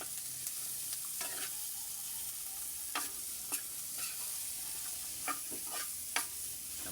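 Vegetables stirred and sautéed in a pan for ginataang sitaw at papaya, a steady sizzle broken by intermittent scraping stirs, close and alone with no talk.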